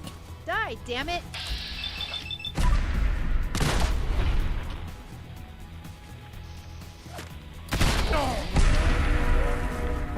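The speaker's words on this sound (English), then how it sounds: "I hear more gunfire" Gunfire and booms from the video game Fallout 4, bursts of loud impacts and crashes breaking out over a steady game soundscape, with someone talking over parts of it.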